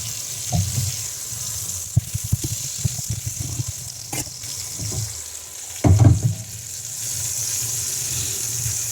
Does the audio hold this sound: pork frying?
yes